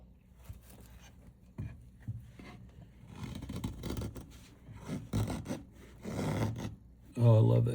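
A blade carves wood against the grain for a crystal dragon stand, giving close irregular scraping and rasping cuts with sharp chipping snaps that grow louder and denser toward the end.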